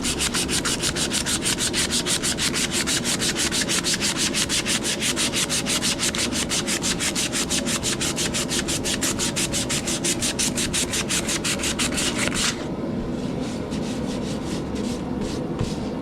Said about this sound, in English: Just a little bit of 220 sandpaper.